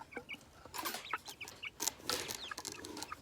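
Several chickens in a cage on a small homestead cluck and chatter in short, irregular bursts close by, with some rustling and no voices.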